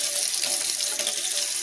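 Warm water running from a tap into a sink, ready for washing a mouthpiece: a close, loud and constant gushing stream with no talk over it.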